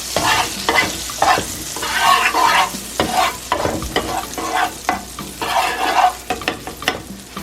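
Two tablespoons each of butter and olive oil sizzle loudly in a pan for turkey fried rice. The frying noise surges and crackles in uneven waves, with stirring scrapes mixed in.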